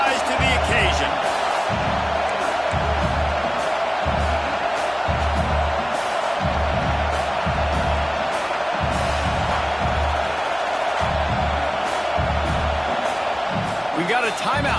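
Football stadium crowd roaring to back its defense on a fourth down, a dense continuous wash of cheering with rhythmic stomping or clapping pulses underneath, and a commentator talking over it.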